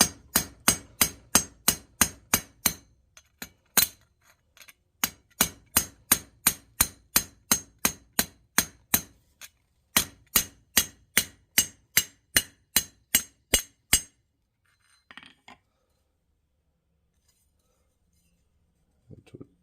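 A rivet on a forged candle holder is struck on an anvil in a fast run of sharp, ringing hammer blows. A short pause breaks the run, a second steady burst follows, and a few faint knocks trail off.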